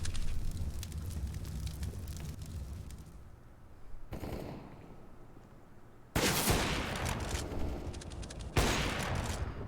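Gunfire crackles in a Counter-Strike match between Astralis and mousesports, dense bursts of pistol and rifle shots with a quieter stretch in the middle, then loud volleys returning near the end.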